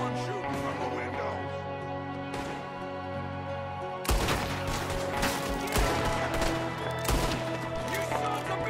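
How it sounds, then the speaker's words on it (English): Video game gunfire from enemies shooting out of a window rattles as a dense, continuous barrage under a music score, and sharper bursts take over halfway through. "There's another one shooting from the window."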